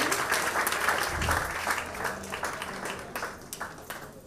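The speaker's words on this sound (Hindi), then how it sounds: "जोरदार तालियों के साथ इनका स्वागत।" Audience applause welcoming a guest at a satsang event in Maharashtra, a full hall clapping steadily and fairly loud, then thinning out toward the end.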